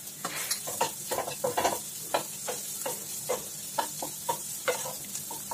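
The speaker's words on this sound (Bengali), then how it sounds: "এখনো ডিমটা আরেকটু ভাজতে হবে, তাই আরেকটু নাড়তে হবে।" Egg frying with salt and slit green chillies in a pan, sizzling steadily while a spatula scrapes and stirs in quick, irregular strokes, close and clear with no talk.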